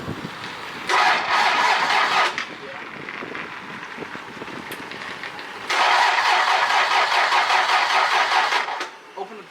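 A Toyota 7M-GE engine, out of the car and mounted on a furniture dolly, cranks and catches, running in two loud rough stretches with a quieter idle between, while people talk nearby.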